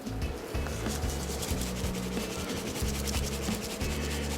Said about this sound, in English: I'm going to apply a light coating, followed by a light coating of the Yoder Smokers beef rub.